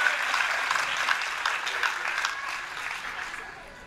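Warm applause from an audience welcoming a performer at a Gujarati community gathering, a thick burst of many hands clapping that starts strong and slowly tapers in loudness.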